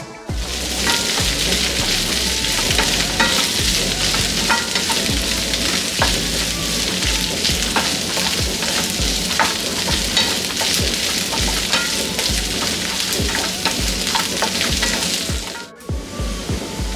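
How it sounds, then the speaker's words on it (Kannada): Chopped okra frying in a pan while being stirred, a loud, continuous sizzle with scraping stirs and no talk. "ಈ ರೀತಿ ಸಣ್ಣದಾಗಿ ಕಟ್ ಮಾಡಿಕೊಂಡು ಇದನ್ನು ಫ್ರೈ ಮಾಡ್ಕೊಳ್ಳೋಣ."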